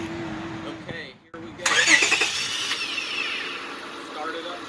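Starter cranking, then a 2003 Honda Accord's J30 V6 catches and fires up loudly, settling into a steady idle after a brief earlier rumble and a pause, with people talking faintly near the start.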